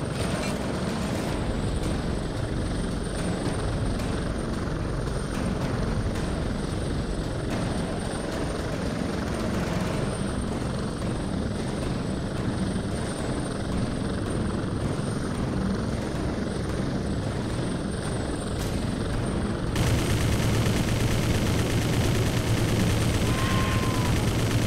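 Military helicopter flying in the video game Prototype 2, a loud continuous rotor and engine roar that holds steady throughout, with faint gunfire mixed in and no voices.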